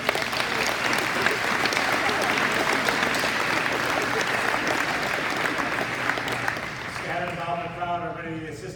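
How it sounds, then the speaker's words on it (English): A school meeting audience applauds an introduced staff member with steady, dense clapping that fills the room, and a voice starts speaking as the applause fades near the end. "One round of applause for her, please."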